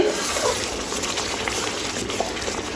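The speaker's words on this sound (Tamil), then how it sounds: "நல்லா கொதிக்கட்டும்." Thick fish curry bubbling and simmering in a pot, a dense continuous burble of popping bubbles, close and steady.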